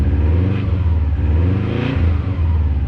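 A Subaru Impreza GC engine running after a rebuild and a long warm-up, heard close as a steady mid-pitched drone with slight rises and dips in revs.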